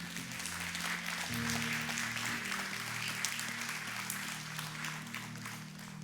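A church congregation applauds during a Spanish-language sermon: steady, moderately faint clapping from many hands lasting several seconds, with a low sustained tone underneath.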